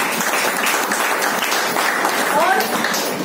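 Audience applause at a health awareness program in Boisar, Palghar: a dense, steady wash of clapping from a crowd that holds at an even level for about three seconds, with some voices mixed in.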